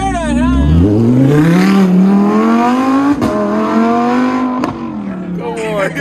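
A sports car departing a car show revs hard, its engine note climbing and falling loudly and close, with bystanders talking and shouting over it.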